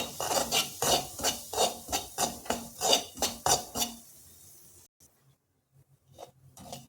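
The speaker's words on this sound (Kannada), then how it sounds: "ರವೆ ಹಾಕಿ ಸ್ವಲ್ಪ ಹುರ್ಕೊಬೇಕು" Semolina (rava) being roasted in a pan and stirred with a metal spoon, giving rhythmic scraping strokes about twice a second, close and clear, then stopping into near silence with a few faint clinks.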